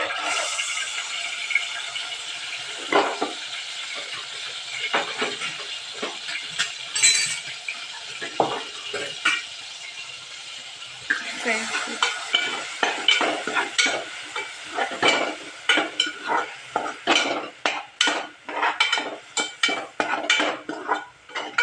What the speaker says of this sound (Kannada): ಸ್ವಲ್ಪ ಹಸಿ ವಾಸನೆ ಹೋಗೋವರೆಗೂ ಸ್ವಲ್ಪ ಫ್ರೈ ಮಾಡಬೇಕು.